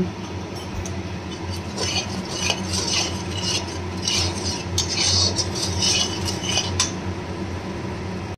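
A spoon stirs and scrapes spices with turmeric and salt around a hot pan, making continuous close scraping and rhythmic metallic clinks, with no talking.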